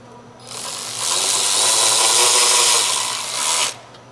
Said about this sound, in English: We're putting the bolts back into the intake.